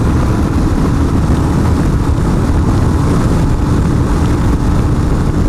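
A 2021 Royal Enfield Himalayan motorcycle pulls out to overtake on a warm road, its engine droning loud and steady under heavy wind rush, constant with no break and no talking.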